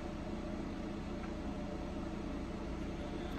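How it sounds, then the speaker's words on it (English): A room fan runs indoors as a steady, even broadband whoosh, low in level and unchanging, with nobody talking. "Sorry about the fan."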